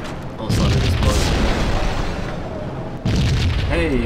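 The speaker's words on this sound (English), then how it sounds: "It feels like I should have been injured by that explosion" A loud explosion booms in the Max Payne video game, a dense roaring burst that sustains for several seconds, followed by a second heavy blast near the end, with a faint voice in the mix.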